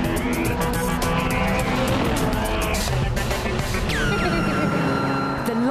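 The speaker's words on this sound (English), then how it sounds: "Keep your foot down through the gears and you'll see 193 miles an hour blisteringly quickly" A Ferrari California with a twin-clutch seven-speed gearbox accelerating hard, its engine roaring loud and close with rising pitch sweeps as it climbs through the gears, wind and road noise constant underneath.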